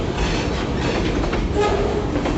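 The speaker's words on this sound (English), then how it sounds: "here's the lumber cars where it's the end of the train" A freight train's trailing lumber cars, centerbeam flatcars near the end of the consist in Idabel, Oklahoma, roll past close by with a loud, steady rumble and clickety-clack of wheels over rail joints, with no voices.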